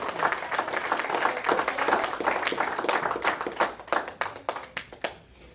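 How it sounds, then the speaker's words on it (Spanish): A church congregation bursts into loud, sustained applause and clapping during a sermon, the dense clapping thinning into scattered individual claps as it fades out. "Denle un aplauso más fuerte a Cristo."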